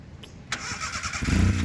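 A car engine idles quietly, then surges into a louder, lurching low rumble as the clutch is released abruptly and the vehicle jerks forward.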